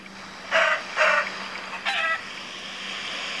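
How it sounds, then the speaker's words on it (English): A chicken in a video game lets out three short, loud squawking calls, two close together and then a third after a pause, with no talk over them. "No, I'm trying to kill the chicken."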